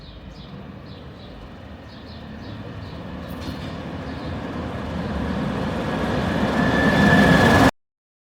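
A train rumbles in steadily, growing louder as it draws near, with a high squeal rising toward the end before the sound cuts off.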